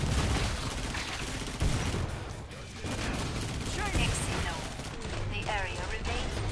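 Sustained gunfire against zombies in a video game, loud rapid volleys of shots with impact crashes, running under occasional voices.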